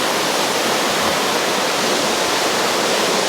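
A waterfall roars nearby as a loud, steady, broadband rush of falling water, unbroken throughout and with no voices.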